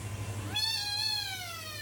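A single drawn-out cat meow rises suddenly from faint background hiss and holds its bright, wavering tone to the end.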